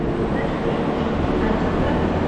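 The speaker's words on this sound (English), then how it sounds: "off goes my train" A train pulls out of Preston station, a dense, loud, continuous rolling rumble of wheels and engine filling the short stretch.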